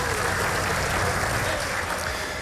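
Applause closes a formal session held to honour the city of Guayaquil, a dense, steady wash of clapping with a murmur of voices mixed underneath.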